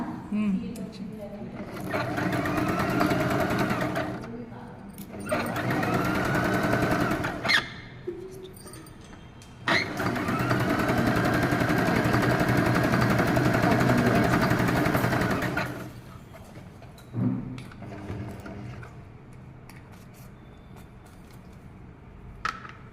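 Sewing machine running in several bursts, stitching one-side folded fabric to make piping, with pauses between runs and a person talking at times.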